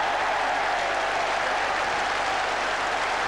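A cricket crowd at Old Trafford applauds a batsman reaching fifty in a 1981 England v Australia Test match, a loud, dense wash of clapping that holds steady throughout with no voices above it.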